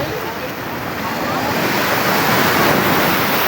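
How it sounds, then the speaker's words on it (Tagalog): Loud, steady roar of strong surf crashing nearby at Baluti Beach, a continuous broadband wash with wind buffeting the microphone. "So ang lakas ng alon no."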